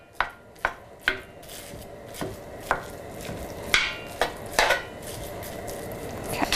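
Ground meat being broken up in a pan with olive oil, with sharp utensil strikes and scrapes against the pan at an irregular pace over a soft sizzle in the background.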